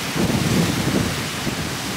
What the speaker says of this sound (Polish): Halny.